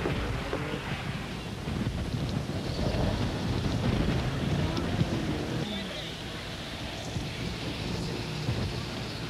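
Gusty wind buffeting the microphone at an exposed racetrack, a steady broadband roar with rumbling low-end gusts, alongside faint background voices.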